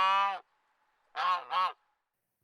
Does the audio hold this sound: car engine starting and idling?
no